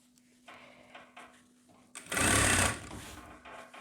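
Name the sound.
sewing machine stitching thick jacket fabric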